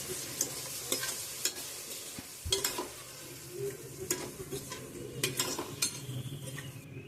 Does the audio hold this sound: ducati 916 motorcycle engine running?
no